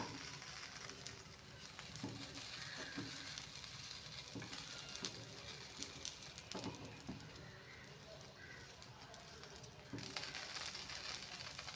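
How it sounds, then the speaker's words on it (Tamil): Mustard seeds and urad dal sizzle in a pan of oil while paniyaram is being made in a village kitchen: a faint, steady frying hiss with scattered small pops and crackles throughout. "பணியாரத்துக்கு அந்த பாத்திரத்தில் கொஞ்சம் நம்ம கடுகு உளுத்தம்பருப்பு போட்டு இது பண்ணிக்கலாங்க."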